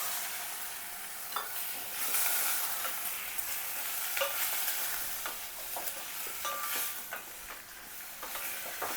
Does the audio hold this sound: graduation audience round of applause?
no